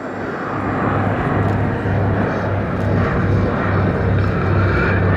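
A Consolidated Catalina propeller aircraft flies at an air show, giving a steady, loud engine drone with a throbbing low hum that holds constant and unbroken throughout.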